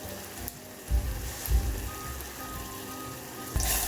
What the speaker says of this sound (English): we'll add it to the frying oil